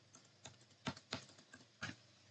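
Fingers tap on a computer keyboard, a handful of soft irregular key clicks close by and very faint.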